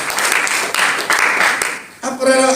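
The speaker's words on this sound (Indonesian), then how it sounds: "Berikan tepuk tangan bagi Dia." A church congregation applauds during a worship service, a dense loud wash of clapping lasting about two seconds before it breaks off and voices or music take over.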